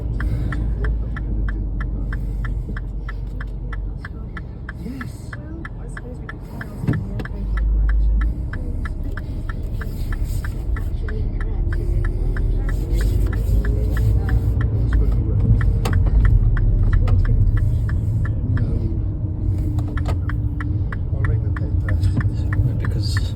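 A 2013 MINI One automatic car drives along with a steady low engine and road rumble, heard from inside the cabin, the drone growing slightly louder and fuller in the second half.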